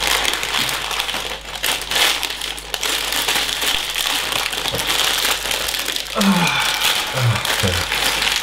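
A plastic bag of Lego pieces crinkles and rustles steadily at close range for several seconds, with small plastic pieces shifting and clicking inside, as a Lego Millennium Falcon set is being built.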